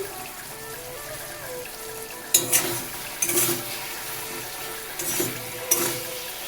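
Chopped tomatoes frying with salt in a pan for a red lentil dal with coriander: a low, steady sizzle broken by a few louder scraping stirs.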